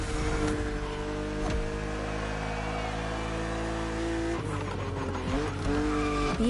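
A BMW Z roadster races in the video game The Crew Motorfest, its engine revving up and down loudly with gear shifts, tire squeal and a steady roar throughout.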